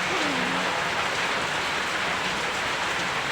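Heavy rain pours in a constant loud hiss that stays dense and unbroken throughout, with a brief voice faintly heard at the start.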